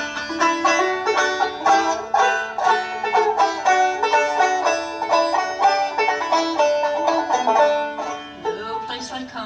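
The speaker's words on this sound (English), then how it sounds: "And we mixed that with a song called "Home Sweet Home." Sounds like this." An instrumental arrangement of "Home Sweet Home" with plucked string notes over sustained chords, played at an even gentle tempo, close and clear, fading slightly near the end.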